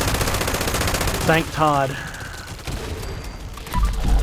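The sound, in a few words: quad LMG machine gun firing in the video game Fallout 76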